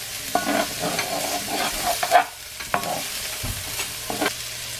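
Garlic and onion sautéing in a pan, with steady sizzling and frying under repeated stirring and scraping clatter, close and moderately loud throughout.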